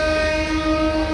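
A train stands at Jejuri station, its loud sustained horn tone ringing over a steady rumbling background, close and continuous for about a second.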